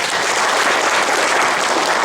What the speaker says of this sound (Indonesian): Tepuk tangan Bu Carmila.